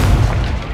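In the Hogwarts Legacy video game, a Confringo fire spell explodes as a single short, heavy boom, loud and close, that fades out fast in under a second.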